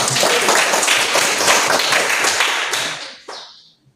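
Students applaud together in a classroom, a loud, dense burst of many hands clapping that fades over about three seconds, followed by a few scattered final claps.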